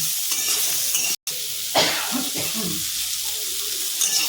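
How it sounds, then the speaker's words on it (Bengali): Yardlong beans sizzle in a pan with a constant frying hiss, broken by a brief dropout and a few stirring clatters. "ভাজা ভাজা করে নামিয়ে নেব"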